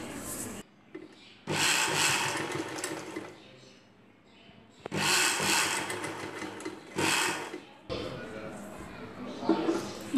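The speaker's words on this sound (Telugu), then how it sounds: "ఈ ముందుగా మనం ప్రిపేర్ చేసి ఉంచుకున్న ఈ పైపింగ్ని ఇలా లోపల వైపు నుండి కుట్టుకోవాలి" A sewing machine stitches piping onto an Anarkali dress in several loud runs, some short and some a few seconds long, separated by brief pauses with quieter handling of the fabric.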